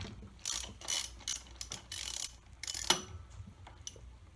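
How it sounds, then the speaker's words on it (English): A ratchet wrench fitted with a 5/8 spark plug socket clicks in short bursts while loosening a spark plug on a Kohler V-Twin Cub Cadet engine, sounding close and quiet with brief pauses between strokes. "I'm going to use my 5/8 spark plug socket, push it on to the spark plug, make sure it's fully seated,"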